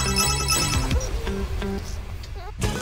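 A phone ringtone in a cartoon, a short melodic electronic tune with stepped notes playing over background music, moderately loud.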